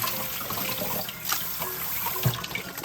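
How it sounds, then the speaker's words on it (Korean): Boiled glass noodles being drained of water, a soft splashing and trickling that runs continuously with a few brief surges, fairly quiet and near, without any voices. "이렇게 물기를 딱 빼주면 됩니다"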